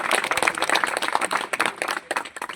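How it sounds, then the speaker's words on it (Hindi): Applause welcoming the chief guest, a village pradhan, at a building inauguration with former soldiers: dense, steady clapping from a crowd, fairly loud and continuous throughout. "एक बार जोरदार तालियां उनके स्वागत के लिए"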